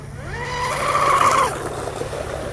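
Octura Oxidean Oxi-digger ready-to-run wooden outrigger RC boat racing across water, with a high engine whine that climbs, peaks, then fades as it passes close by, heard alone.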